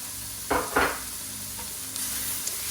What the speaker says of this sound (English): we're gonna saute this a little bit longer, probably another minute